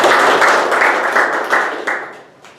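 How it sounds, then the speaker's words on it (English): A small meeting audience gives a short round of applause, scattered clapping that starts fairly loud and thins out quickly, fading to a few last claps. "So let's also give him a round of applause."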